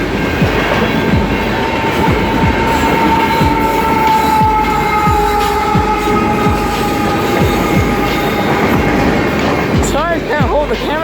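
A CN freight train rolls past close by, a steady loud rumble of rail cars with rhythmic wheel clatter and a brief high wheel squeal near the end, heard in cold outdoor conditions.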